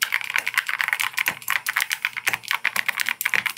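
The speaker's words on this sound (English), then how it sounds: "The typing ASMR sound starts now." Rapid, crisp clacking of keys on a mechanical keyboard, steady typing rhythm close up with no voices.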